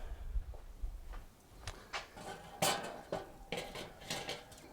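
A metal cooking grate clatters onto a Weber kettle charcoal grill loaded with lump charcoal, several sharp metallic clanks and scrapes spread over a few seconds, close by with no talking.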